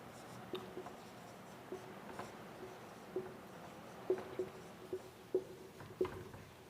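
Chalk tapping and scratching on a classroom board in short intermittent strokes while Hindi sentences are written out for an English tense lesson, faint and close, with no talk.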